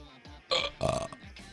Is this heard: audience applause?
no